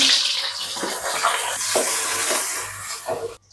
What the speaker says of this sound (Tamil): எண்ணெய் கொதிச்சிட்டு வெங்காயத்தை போடுவோம்